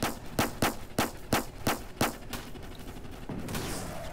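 A .50 cal machine gun in the Roblox tank game Armored Patrol fires a steady, evenly spaced string of about eight heavy, sharp shots, then gives way to a dense, rumbling wash of battle noise.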